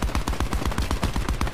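Fast automatic gunfire in Call of Duty: Black Ops 4 rattles in a steady, rapid burst of close, punchy shots over a short stretch, with no voices.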